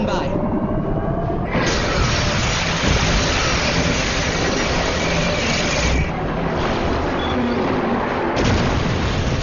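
A sci-fi energy weapon switched to automatic firing mode unleashes a loud, sustained barrage of booming, crackling blasts that roll on for seconds with only brief dips.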